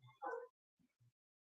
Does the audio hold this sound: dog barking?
yes